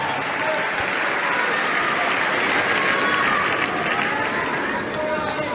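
A tennis crowd at the 2022 French Open semi-final at Roland Garros applauds steadily throughout, a dense wash of clapping with a murmur of chatter and speech mixed in.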